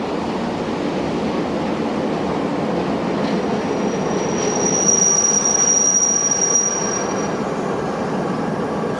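A loco-hauled interregional passenger train rolls through Portugal with a steady rumbling roar. A thin, high wheel squeal rises partway through, and the sound stays loud and continuous throughout.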